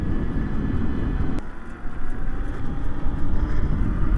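Steady low rumble of a ride on a Nireeka carbon fiber mid-drive e-bike, continuous wind and road noise with motor drone throughout, a brief sharp click near the middle, no talking.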